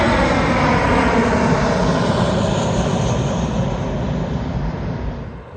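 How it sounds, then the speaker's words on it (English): A Southwest Boeing 737 jet roars loudly on approach near Reno Tahoe International Airport, a dense, sustained engine rumble that holds steady and then begins fading at the end. "Among the planes I caught were not one, but two Southwest Boeing 737s."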